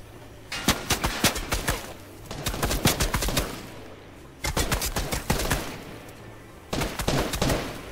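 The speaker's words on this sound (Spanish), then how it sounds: "Vamos a dispararle un poco" Bursts of rapid gunfire from the Fortnite video game crack out in four clusters of sharp shots, loud and close, separated by short pauses.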